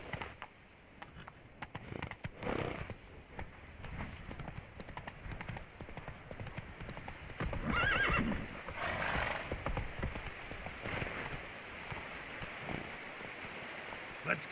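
Horse Roach in The Witcher 3, hooves clip-clopping steadily over ground at a moderate pace with a soft rain-like wash behind, a brief swell of movement midway, and no clear neigh standing out.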